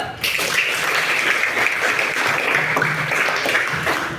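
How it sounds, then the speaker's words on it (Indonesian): Schoolchildren in a classroom clap together in a loud, dense burst of applause that continues steadily from start to finish. "Kita tepuk tangan dulu."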